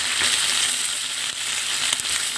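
Steady crackling sizzle of a small piece of ginger sautéing in leftover frying oil for chicken adobo, close and continuous with a few sharper pops, no talking.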